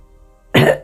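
An old man gives a single short, sharp cough after a near-silent pause, close and loud.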